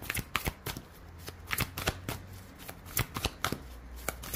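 Tarot cards being shuffled by hand in a quick run of crisp, papery riffles and taps, close and clear, with no talking over it.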